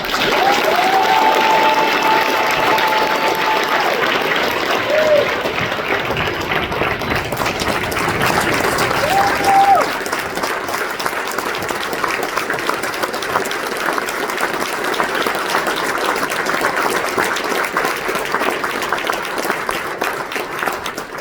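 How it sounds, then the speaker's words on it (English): A large audience at a commencement ceremony applauds newly commissioned Navy officers continuously, dense steady clapping filling the space for the whole stretch without letup. "please join me in giving these newly commissioned officers a well-deserved round of applause"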